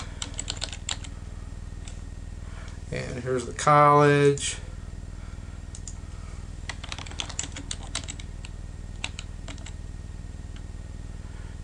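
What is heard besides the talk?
typing on a computer keyboard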